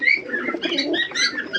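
Pigeons in a night-time coop, a laying pair among them, give soft throaty coos and short warbles, close and continuous over a bit more than a second.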